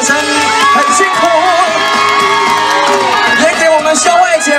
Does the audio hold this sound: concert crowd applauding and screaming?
yes